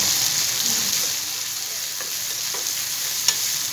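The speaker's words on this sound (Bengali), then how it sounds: "পেঁয়াজটা আমি বেশি ভাজা ভাজা করব না, হালকা ভাজা ভাজা করব" Onion and green chilli frying in a pan for a plain potato stir-fry, a steady close hiss of sizzling oil with faint stirring scrapes, continuous throughout.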